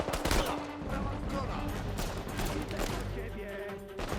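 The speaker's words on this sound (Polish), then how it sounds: "Dobra, z dołu do mnie strzela." Dense gunfire in the video game Uncharted 4, with rapid bursts and crackling shots layered over one another, loud and continuous, while players talk beneath the shooting.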